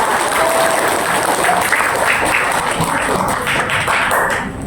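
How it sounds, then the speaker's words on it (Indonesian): Schoolchildren at an elementary school library opening ceremony clap together in a loud, continuous burst of applause that carries on for several seconds with no talk over it. "Tepuk tangan dulu semuanya buat kalian."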